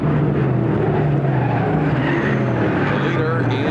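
Race cars roar continuously around a dirt track during a long-distance dirt-track event, a steady engine drone that holds loud throughout with commentary heard over it.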